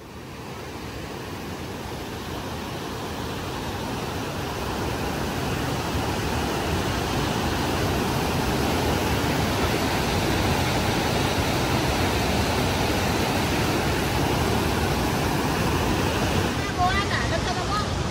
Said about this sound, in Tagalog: Ang tawag nila sa falls na to ay Bow Falls.